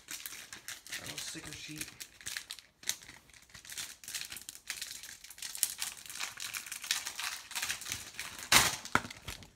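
Skylanders Imaginators starter pack packaging being opened, with plastic and cardboard crinkling and rustling in bursts close by, a few sharper tearing snaps, while a person talks throughout.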